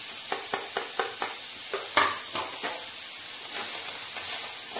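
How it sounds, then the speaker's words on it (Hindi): Hot oil sizzles and crackles steadily at close range as coriander leaves are added for a tempering, with a series of quick light taps and stirring sounds. No one speaks. "अब डालेंगे इसमें थोड़ा सा धनिया का पत्ता, ये देखिए कड़कड़ाहट"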